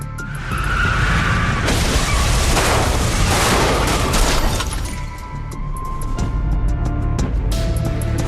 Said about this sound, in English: Passenger train collided with several cars and a semi at a crossing